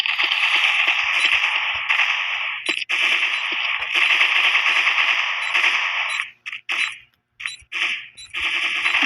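Sustained automatic gunfire from a gun in a video game, a dense continuous rattle of loud rapid shots that breaks into short bursts near the end.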